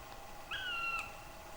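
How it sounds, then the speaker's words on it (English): A single short, clear whistled bird call, a smooth tone gliding slightly downward for about half a second, faint and alone against quiet background hiss. "Bird sounds, yes."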